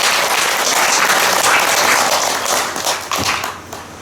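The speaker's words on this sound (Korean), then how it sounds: "스님을 박수로서 맞이하도록 하죠." An audience at a Buddhist dharma gathering claps to welcome a visiting Thai monk, a loud, close burst of many hands that thins out toward the end.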